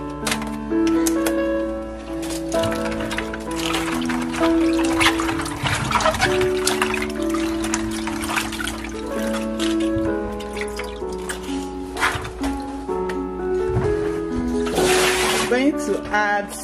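Cabbage is washed under running water from a tap, a steady splashing and trickling that sits beneath loud background music throughout.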